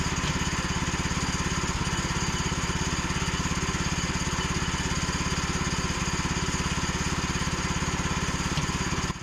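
A Woodland Mills sawmill resaws boards into siding for a shop, its engine running at a steady, close, pulsing drone with the blade cutting continuously and no break.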